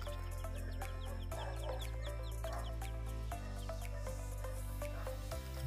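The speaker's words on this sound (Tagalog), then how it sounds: "Kasi may mga sisiw na dito." Chicks and chickens cluck and peep steadily around a brooding area, with several birds chattering at once over a constant low hum, close by and without any talk.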